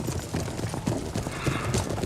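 Cavalry horses gallop in an Empire Total War battle, a dense rumble of hoofbeats with scattered whinnies mixed into the busy clamour, loud and steady throughout.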